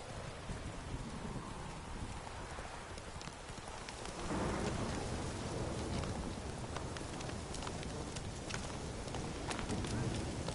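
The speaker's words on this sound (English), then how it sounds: "This downpour's a bastard," Heavy rain pours steadily in The Witcher 3, a dense continuous downpour with a swell of rumbling thunder rolling in partway through, no voices over it.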